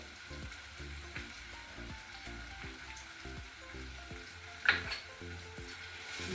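Masala with red chili powder and salt sautéing in a pan for a mountain-style fish curry, giving a steady low sizzle with rhythmic stirring scrapes throughout and a brief sharper clatter near the end, no voices.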